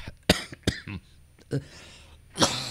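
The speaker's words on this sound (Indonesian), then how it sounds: "Wah, batuk." Several sharp coughs burst out close by, two quick ones early, then more after a pause, with throat-clearing noises between.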